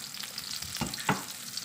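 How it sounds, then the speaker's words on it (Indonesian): Shallots, garlic and chopped chili sizzle softly in a hot oiled pan, with a couple of scraping stirs of the spatula over a steady frying hiss. "Kita tumis-tumis dulu."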